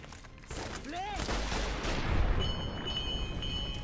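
A Legion sniper's gunfire in the Fallout: New Vegas video game: a sharp crack with a whistling sweep, then a loud booming report whose rumbling echo rolls on to the end amid battle noise.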